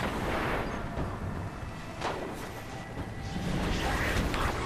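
Enemy gunfire in the shooter video game Destiny, a dense, continuous barrage of blasts and booms that fills the clip at moderate loudness without clear speech.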